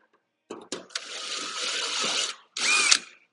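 Step drill bit (unibit) boring through metal during fabrication work: a couple of short initial bursts, then a sustained grinding whine for over a second, and a final brief squealing burst.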